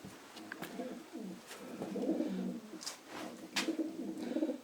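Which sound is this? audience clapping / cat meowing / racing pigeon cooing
racing pigeon cooing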